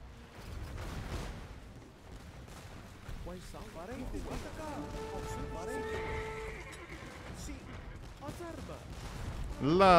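Horses whinnying and clip-clopping as mounted riders move in an Age of Empires II battle, mixed with distant gunfire and cannon blasts in a busy, layered game soundscape.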